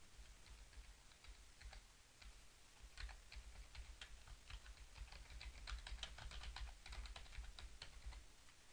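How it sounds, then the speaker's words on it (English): Quiet, continuous typing on a computer keyboard while entering text in PowerPoint 2010, rapid irregular key clicks with no talking. "So I'll press my down arrow on my keyboard and I'll type something about instruction."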